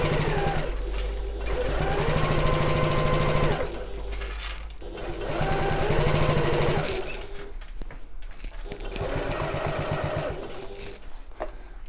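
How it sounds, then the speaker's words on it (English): A sewing machine stitches the seam allowances of a bag together in three sustained runs, close and steady with a rapid mechanical hum, easing briefly between passes. "just sewing these seam allowances together"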